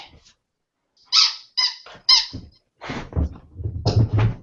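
A few sharp, high-pitched squeaks from a dog's squeaky toy come in quick bursts, followed by a dog's low growling and snuffling close by.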